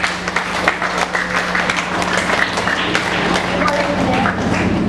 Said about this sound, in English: give a round of applause to our dear proud parents who are there to support us